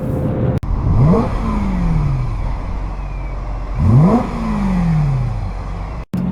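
A BMW E46 or E92 M3 engine revs up twice, rising and falling in pitch with a throaty roar, each burst separated by a steady idle rumble.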